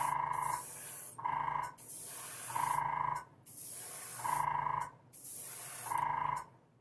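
An airbrush sprays pigment onto a quarter-scale beast prototype model in five short, close hissing bursts at an even rhythm, with brief pauses between them.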